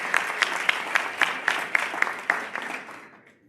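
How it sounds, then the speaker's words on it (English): A keynote audience at a South Carolina family engagement conference applauds, and a few sharp, evenly spaced claps stand out above the dense clapping before it fades away. "give yourselves a round of applause"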